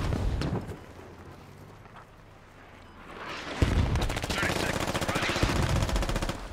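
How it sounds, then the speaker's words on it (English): Rapid gunfire in the video game Squad during a hilltop assault in Pakistan, faint and distant at first, then a sudden burst around the midpoint leading into sustained, dense automatic fire with a few louder reports, no talk over it. "We're taking fire from the reverse side of the hill,"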